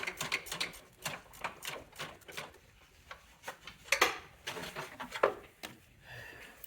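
A ratchet with an extension turns a motor mount bolt loose on a 2006–2015 Audi Q7, with quick bursts of close, light clicking separated by short pauses.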